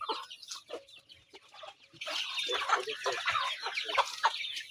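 Chickens and chicks at feeding time on a farm, close clucking and chirping in busy overlapping bursts that grow denser and louder partway through.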